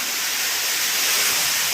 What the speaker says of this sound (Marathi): हे पहा कसं पाणी पडतं आहे.